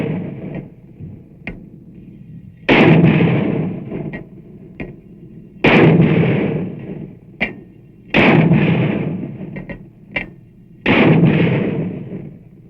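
Mortars and grenade launchers of a modern infantry battalion firing during a training exercise: four heavy booming blasts with long rumbling decay, interspersed with sharper, shorter gunshot cracks, loud and close, with no talking.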